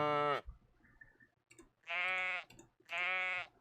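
Sheep bleat on a farm in the video game Lords and Villeins, three loud, drawn-out calls: one at the start, then two more after short pauses, with faint clicks in between.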